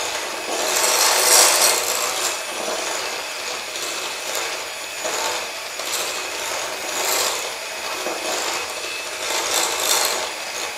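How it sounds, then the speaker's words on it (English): A whisk stirs chocolate chips through chocolate muffin batter in a bowl, making a continuous close scraping and swishing with rhythmic swells, without any talking. "And then a final whisk just to get those mixed up."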